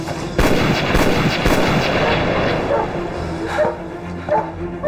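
Several gunshots ring out in sharp, loud bursts during a Chinese espionage TV drama set in the Wang puppet regime era, followed by lingering noise and a dog barking and whimpering nearby.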